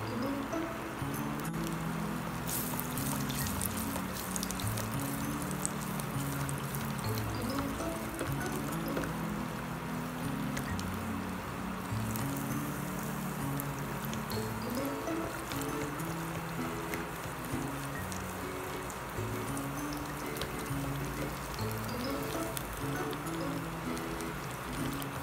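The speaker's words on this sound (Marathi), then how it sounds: "सगळ्या कचोऱ्या आपण एकदम टाकायच्या नाहीयेत, एक एकच तळून घेऊया" A kachori deep-fries in hot oil, giving off a steady, dense sizzle that holds evenly without a break from start to finish.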